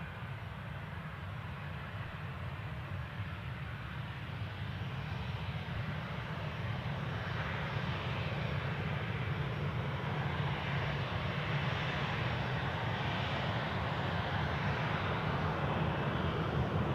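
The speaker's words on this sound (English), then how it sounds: "See what I think is the Antalya flight moving out." An airliner on the Antalya flight taxis at Newcastle airport, its jet engines giving a steady, broad roar heard from a distance and holding at a constant level throughout, with no talking.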